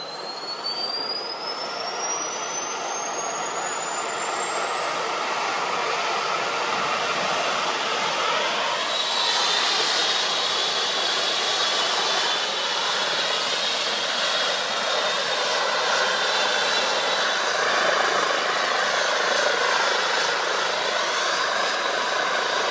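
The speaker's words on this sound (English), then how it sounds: "Before long, the engines on the helicopter started up" Air ambulance helicopter on a park landing site with its engines spinning up: a steady, loud turbine roar holds throughout while a high whine climbs steadily in pitch.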